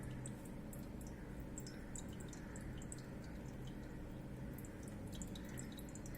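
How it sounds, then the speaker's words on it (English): Water trickles and drips steadily from a pressed valve into a dish, with small bright droplet splashes over a quiet, continuous low background. "the valve has been kept pressed and the water is now collecting into my dish"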